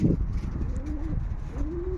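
Pigeons coo in a few soft, rising calls, close and fairly clear over low background rumble, with no one talking, as a hawk menaces the flock on its first flight.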